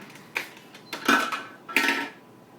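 Powdered-egg homemade mayonnaise being whisked in a bowl, heard as three separate bursts of utensil scraping and clinking against the bowl, fairly close with quiet pauses between them.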